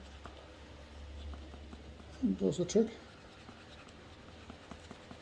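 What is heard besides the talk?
scissors edge rubbing flat a cut edge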